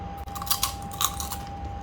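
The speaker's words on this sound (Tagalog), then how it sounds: "Let's try this one, how crunchy." Crunchy air-fried chicken skin is bitten and chewed up close, giving a few sharp crisp crunches in quick succession over a quiet room with a steady faint tone.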